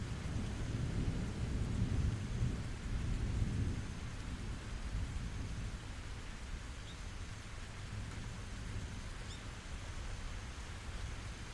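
Steady heavy rain pours down with low, rolling thunder rumbling through it, louder early on and then settling into a constant wash.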